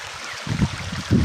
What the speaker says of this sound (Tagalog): yung tubig dito ay flowing